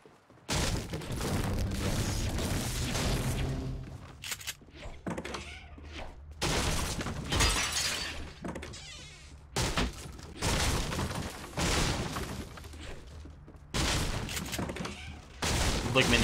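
Repeated bursts of gunfire in a video game, sharp volleys recurring every second or two across the clip, loud and close, mixed with game sound and some talk.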